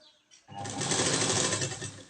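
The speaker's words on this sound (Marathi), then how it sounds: "जेवढे आपण शिलाई मार्जिन ठेवलेली आहे त्या पद्धतीने आपण ही शिलाई मारून घ्यायची" A sewing machine stitches a strip of lining belt for a katori blouse, starting after a brief pause and then running as a steady, loud, continuous whir close by.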